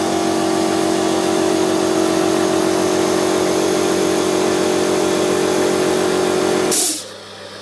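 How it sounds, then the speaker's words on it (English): Harlacher H41 coating machine running steadily with a continuous mechanical hum and drone as the carriage moves and the tray tips, then cutting off abruptly near the end. "There's the tray moving and tipping."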